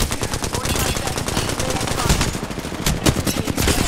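Rapid, continuous automatic gunfire from the video game Apex Legends rattles loudly and densely throughout, with players talking over the shooting.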